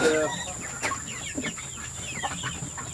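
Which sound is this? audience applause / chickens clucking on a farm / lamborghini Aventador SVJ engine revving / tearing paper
chickens clucking on a farm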